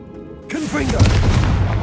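Confringo fire spell exploding in the Hogwarts Legacy video game; after a short quiet lead-in, a loud, sudden blast swells into a sustained rumbling roar, with a brief voiced shout near its start.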